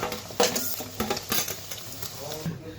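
Fried chhana paneer pieces lifted one by one out of hot oil, with a soft background sizzle broken by several sharp utensil clinks and scrapes against the pan.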